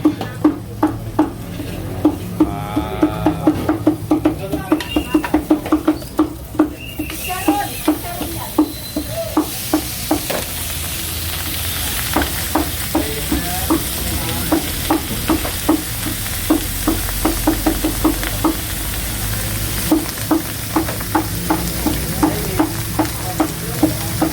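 Rice frying and stirred with butter or margarine for sisig in the Philippines, a constant sizzle under rapid, rhythmic metal scraping and clanking of a utensil against the pan, close and loud.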